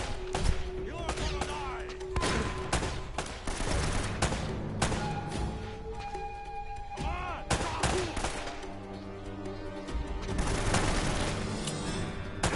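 Gunfire in Uncharted: Drake's Fortune, a dense run of repeated shots and bursts crackling throughout amid game sound effects and music, loud and continuous with a voice talking at times.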